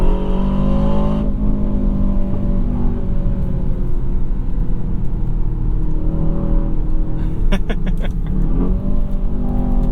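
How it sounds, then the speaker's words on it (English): A 2024 Aston Martin DBX 707 pulls hard in manual mode, its loud, growling engine rising through the gears with a faint intake whistle, heard from inside the cabin. "You hear that whistle from the intake?"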